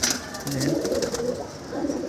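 Pigeons in a loft during their moult give repeated low, throaty coos nearby, overlapping one another with soft rustling behind them.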